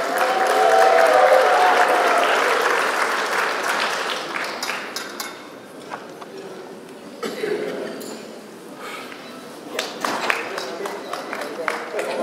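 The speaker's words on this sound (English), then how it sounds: "Or I should say, give her a Texas round of applause." Applause from the audience at a funeral service awards breakfast swells loudly at first, then thins into scattered claps with some crowd murmur and a cough as it fades.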